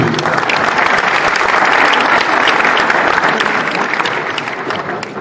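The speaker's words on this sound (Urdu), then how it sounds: "سو بے پناہ تالیاں آپ اپنے لیے بجا دیجیے۔" An audience at a poetry mushaira in Muscat, Oman claps in dense, sustained applause, loud and close, slowly easing off near the end.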